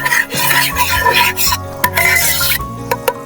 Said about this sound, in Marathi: ऑलमोस्ट गाळ होईपर्यंत ती अशी घोटून घ्यायची आहे.